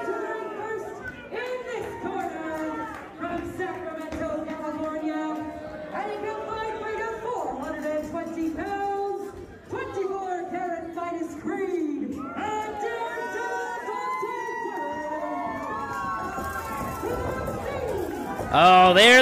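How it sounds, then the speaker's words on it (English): Wrestling crowd at an SPW Warpath event cheering for a tag team making their entrance, a steady roar of voices and whoops running throughout under entrance music, swelling louder at the very end. "You can hear the crowd giving it up for them."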